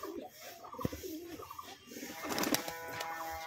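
Madrasi pigeons coo softly in short, low calls, followed by a burst of rustling noise and a few brief chirps near the end.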